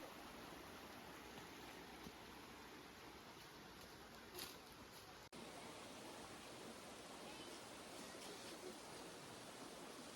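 A clear river flows continuously, giving a steady, even rushing hiss that stays constant throughout with only a brief dropout partway.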